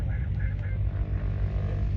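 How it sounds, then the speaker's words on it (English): An aircraft engine at an air show gives a steady low droning hum from a moderate distance, with faint higher squawks briefly over it early on and no clear talking. "Is that a gyro plane?"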